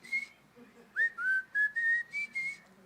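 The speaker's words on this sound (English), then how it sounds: "whistle with me" People in a congregation whistle together a bright, wavering tune in a series of short phrases, a clear melodic line carrying over faint room noise with no talking.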